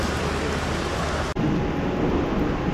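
Heavy rain pours steadily over Rawalpindi railway station, a dense, loud hiss with a low rumble beneath, broken by one very brief dropout before the downpour continues.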